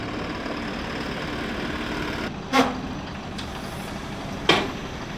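FARMLEAD FL 1104 tractor engine running: a steady, continuous low engine drone at close range, broken by two short, sharp higher bursts, with no talking.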